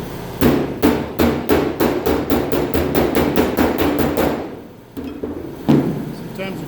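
A hammer strikes a dented metal panel backed by a plastic dolly, giving a quick, even run of about a dozen sharp, loud blows, then a short pause and a couple more hits.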